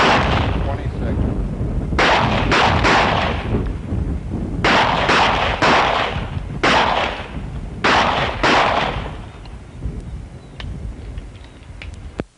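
Police officers fire handguns on a firing range in repeated volleys, loud sharp reports coming in bursts with short gaps between them, a few scattered single shots near the end.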